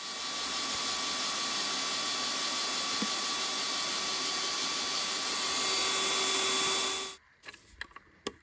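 A fine drill bit bores a screw hole in wood, giving a loud, steady high whine from the power drill for about seven seconds before it stops, followed by a few light clicks.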